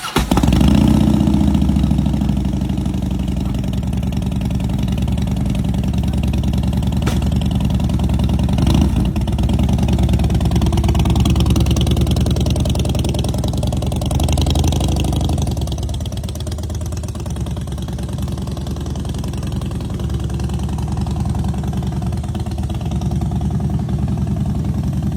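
A 2010 Harley-Davidson Dyna Fat Bob's V-twin engine idles steadily and loud at close range, a continuous low rumble with a slight rise and settling in the middle, no voices.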